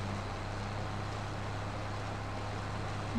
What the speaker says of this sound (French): Voilà le tracteur